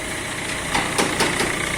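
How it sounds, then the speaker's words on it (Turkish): A car engine idles steadily in an auto repair district after work on its gearbox, a loud, even running hum with light rhythmic ticking and no voices over it. "Şu an motorun sesi"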